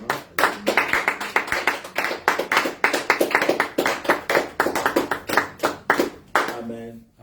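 A church congregation claps in a fast, steady rhythm for several seconds, loud and close, with a few voices underneath before the clapping stops near the end.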